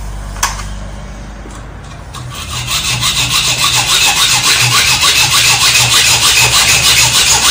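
A hand saw cuts through a threaded metal bolt while a cat flap is being fitted, starting after a sharp tap and settling into loud, close, rapid back-and-forth rasping strokes.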